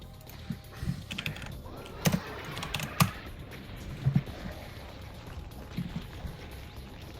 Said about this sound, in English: My noisy mechanical keyboard and me stomping on it is a bit of a meme at this point.